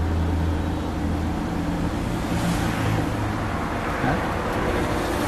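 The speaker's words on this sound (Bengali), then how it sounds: "ইঞ্জিনের সাউন্ড" The engine of a one-year-old Tata car runs at a steady idle, giving a smooth, continuous low hum with a constant tone that stays close and even throughout.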